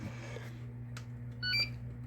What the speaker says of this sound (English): So we get like cool little beeps and stuff.